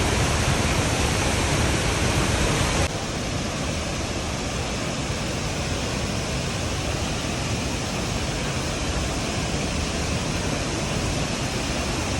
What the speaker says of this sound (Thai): น้ำตกก็จะมีสองฝั่งด้วยกันนะคะ